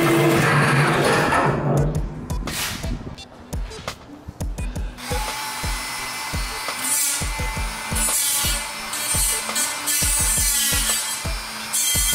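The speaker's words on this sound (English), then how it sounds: "Try to use my Dremel and see if I can cut the nail head off." A Dremel rotary tool grinds through a nail head during a 55-gallon barrel grill rebuild. Sharp scraping and tapping bursts come first, then a steady high motor whine with gritty cutting noise. The sound is close and loud.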